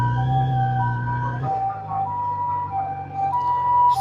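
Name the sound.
ambulance siren approaching from behind in Tokyo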